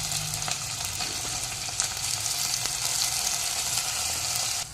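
Potatoes, fenugreek seeds and onions frying in hot oil in a pan, a continuous close crackling sizzle with occasional sharp pops and faint stirring, no talk.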